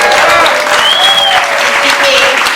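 Crowd applause fills a campaign kickoff speech for the Northampton mayor, a steady dense wash of clapping lasting throughout, loud and close, with faint voices and cheers mixed in.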